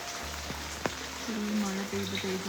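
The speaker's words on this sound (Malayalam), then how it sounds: "പക്ഷെ മഴ എല്ലാ സ്ഥലത്തും ഭയങ്കര മഴയാണ്" Heavy rain pours down everywhere in a steady, dense hiss, with some voices faintly audible beneath it.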